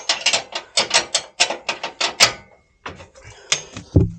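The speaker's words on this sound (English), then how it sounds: "Once I've got that loose, I'll be able to hit it with a socket." Rapid mechanical ratcheting clicks come in quick repeated strokes from a socket wrench on a strut bolt of a 2016 Ford Ranger PX2, close and crisp, with a brief pause and a final clunk.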